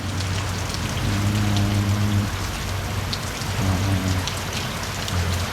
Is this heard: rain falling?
yes